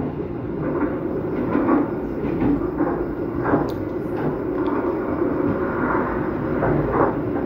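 A long Jayakarta Premium passenger train rolls past on the Bekasi–Cakung–Jatinegara line, a loud, continuous rumble and rattle of wheels and carriages that holds steady throughout.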